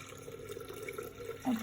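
Water is poured into a pot of barley and fish soup with tomato concentrate, a soft quiet trickle with a brief splash near the end.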